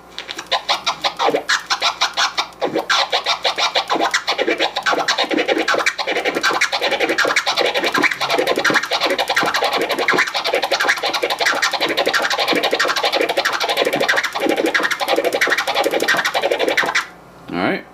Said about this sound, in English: the Kermit is two chirps followed by a flare that's twice as long